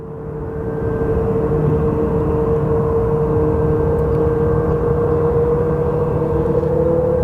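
Jet engines of a couple of Southwest airliners spool up on the ramp at Phoenix Sky Harbor, a steady rising whine over a low roar that holds loud and constant after the first second.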